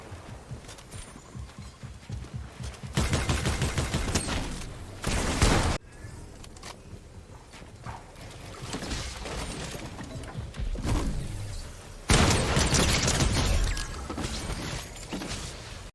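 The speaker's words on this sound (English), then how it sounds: "with the one shotgun shot, he kills the last player and wins the game" Fortnite game audio carries repeated bursts of gunfire and booming shotgun blasts, loud and close, separated by busy stretches of footsteps and movement noise in the match.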